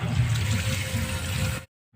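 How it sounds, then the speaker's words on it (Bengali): Water pours steadily into a cooking pan of fried parshe fish for curry, a trickling, splashing rush for over a second, then cuts off abruptly. "জল দিয়ে দিচ্ছি"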